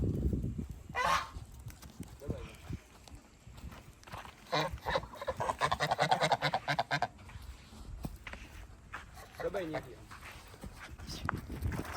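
Ducks and chickens on a farm honk and cackle in irregular bursts, a goose-like honking rising around the middle, heard close while someone talks over much of it.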